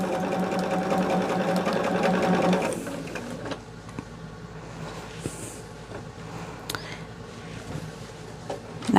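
A sewing machine stitches seams on a cotton quilt, running steadily and loudly for a few seconds, then dropping to quieter intermittent mechanical clicks and handling sounds.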